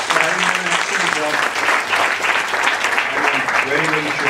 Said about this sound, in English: I think we need to give a round of applause to Dr. Kamath, Dr. Mrs. Kamath, and Dr. Sneh